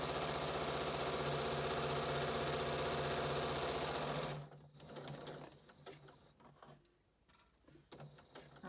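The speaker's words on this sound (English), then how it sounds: "I will sew to the mark and then I will back stitch a little bit" Sewing machine stitching the seam of a fabric surgical cap, a loud, close, fast steady rattling hum for about four seconds that stops abruptly, followed by quieter handling noises.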